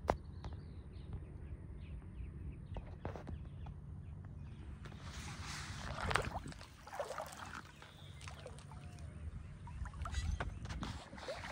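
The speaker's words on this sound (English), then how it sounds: "It's a boat." A boat out on a river, a low steady engine hum running throughout with water sloshing, faint bird chirps and some wind gusts in the middle.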